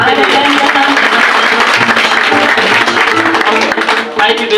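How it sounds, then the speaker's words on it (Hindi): A large audience at a New Year seminar in Qatar claps loudly and continuously, a dense wash of applause that fades slightly at the end. "मैं चाहूंगा एक जोरदार ताली उनके लिए।"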